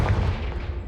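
A Confringo fire spell cast in Hogwarts Legacy lands as a dense, booming blast with heavy low rumble, loud and close, filling the whole brief moment.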